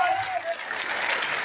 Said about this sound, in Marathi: एकदा टाळ्या द्या त्या विषयासाठी